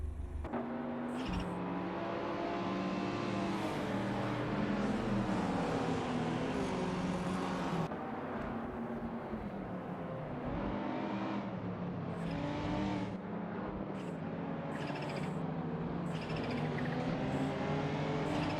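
Sports race cars lap Road Atlanta in a racing video game, engines revving and shifting loudly and continuously, with several cars passing close by across the stretch.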